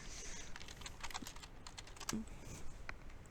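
Keys clatter in rapid, uneven bursts as someone types on a computer keyboard, close and fairly quiet, with no voices.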